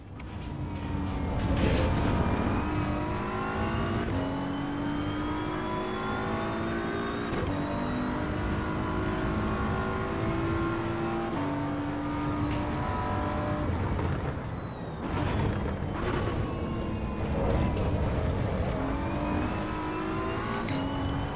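Car engine in the racing sim Assetto Corsa EVO, loud and continuous, with gear-by-gear revving climbs and shifts repeating through the run, no talk over it.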